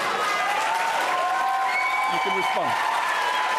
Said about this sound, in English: I'm glad that the audience is cheering things I've written